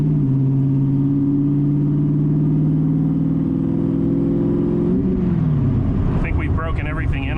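A warmed-up 331 engine in a Ford Ranger runs steadily with a strong low hum, then shifts pitch near the end as other sounds come in, close and loud throughout.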